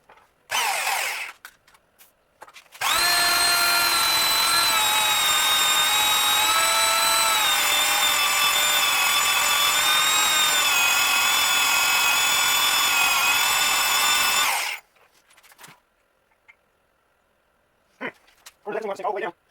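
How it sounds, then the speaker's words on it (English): A machine tool cuts a rat rod link bar with a loud, steady high-pitched whine for about twelve seconds, preceded and followed by brief mechanical knocks and a voice speaking. "that's actually meant to go in a milling machine"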